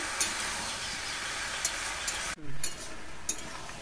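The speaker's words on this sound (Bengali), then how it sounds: "খুব ভালো করে হলুদ লবণ দিয়ে কষিয়ে নেব" Pumpkin pieces with turmeric and salt sautéing in a pan, a steady close frying hiss with occasional scraping stirs and a brief dip midway.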